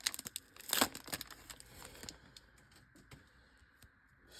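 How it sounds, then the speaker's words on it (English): A Pokemon card pack's foil wrapper is torn and crinkled open close up, a burst of sharp crackling followed by quieter scattered rustles. "I struggle to open these packs when I don't have my scissors"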